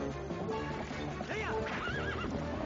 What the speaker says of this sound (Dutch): Op een paard. Stom paard.